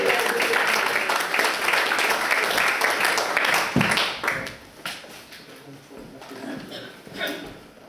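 Guests at a supper give a round of applause: dense, loud clapping fills the first half, then thins out and fades into scattered claps and murmurs.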